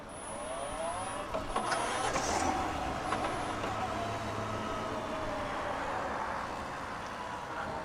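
A Kawasaki Ninja 7 Hybrid motorcycle rolls around a parking lot in electric EV mode, giving off a faint rising and falling motor whine over broad steady road and wind noise, with no voices.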